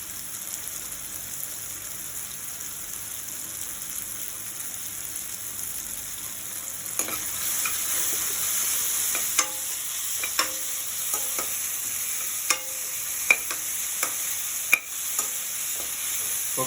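Cashews and peanuts fry in oil in a pan for upma, giving a steady soft sizzle throughout; from midway, sharp clicks and taps of stirring cut in at irregular intervals.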